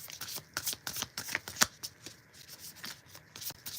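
A deck of tarot cards is shuffled by hand, giving a close, quick series of soft riffling flicks and papery slaps in an irregular rhythm over a quiet room, with no talking.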